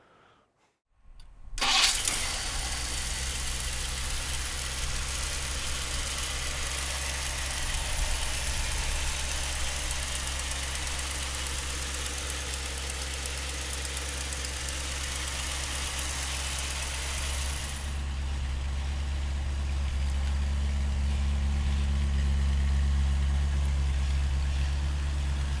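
A 1961 Ford Thunderbird's 390 V8 engine starts up and settles into a steady, deep idle with a rumbling low-end burble, loud and close, no voices.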